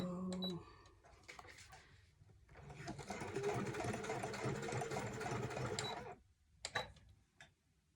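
A sewing machine runs a straight stitch through paper, with short starts and then a steady whirring run of several seconds that stops abruptly, a faint voice briefly before and after.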